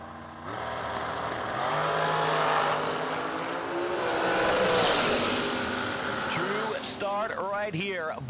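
Drag race cars roaring at the starting line of a summer drag racing meet, engines droning loudly and steadily with a swell in the middle, while an announcer talks over them throughout.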